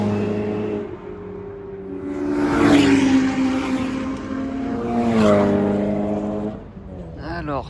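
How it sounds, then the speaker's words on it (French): A Caterham sports car engine roars loudly and up close, its pitch swelling and falling twice as it revs, with a person talking over it. "Écoutez la Caterham, le bordel qu'elle fait."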